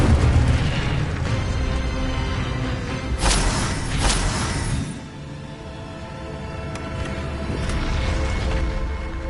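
An Incendio fire spell bursts in the Hogwarts Legacy video game with loud rumbling booms and fiery whooshes over dense game sound, then settles into a lower continuous roar.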